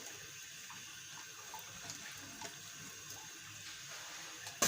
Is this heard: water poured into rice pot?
yes